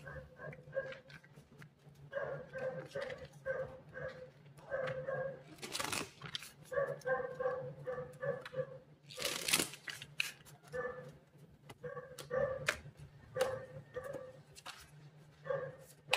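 A neighbor's dog barks in repeated short bursts, grouped into quick runs with brief pauses, moderately loud but a little distant, with a couple of sharp broadband rustles in between.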